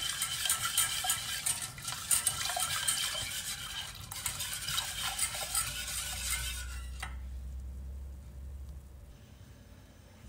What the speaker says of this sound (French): je vais mélanger avec une falotte